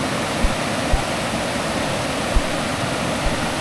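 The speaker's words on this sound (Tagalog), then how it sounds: "Grabe, lakas ng tubig." Strong rushing water of a stream or waterfall at a picnic spot, a dense steady roar close by, with a few faint low thumps; no talk.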